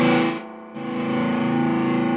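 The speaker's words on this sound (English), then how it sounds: "Even the light overdrive sound is really good" Electric guitar played through a Phaez Brown Sound overdrive pedal at a light overdrive setting, a sustained distorted chord ringing loudly with a brief dip in level before swelling back and holding steady.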